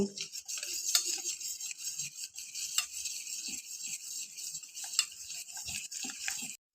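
Chocolate lava cake batter with baking soda and salt being stirred in a bowl, a soft, steady scraping and swishing with occasional light clicks against the container, quiet and close, with no talking.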